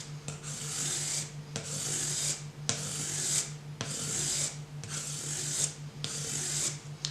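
A StatTrak Gut Knife stropped on a makeshift strop to remove the burr, heard as repeated rhythmic rubbing strokes, about seven passes, close and soft, with no talking.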